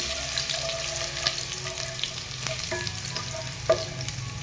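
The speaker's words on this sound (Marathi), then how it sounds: "लसूण चांगला कलर चेंज होईपर्यंत आपण तळून घेऊया चांगला" Garlic and cumin seeds fry in hot oil, a steady close sizzle with faint crackles and a few sharp clinks of a spoon against the pan, no voices.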